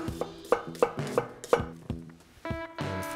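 A knife slices vegetables on a cutting board for chicken with piperade, giving a close, crisp run of about eight quick, evenly spaced chops, with no talking.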